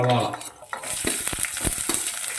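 Chopped ginger dropped into a hot pan for a cabbage and carrot thoran, with a sharp burst of sizzling followed by quick metallic scrapes and stirring clatter, close and loud, without speech.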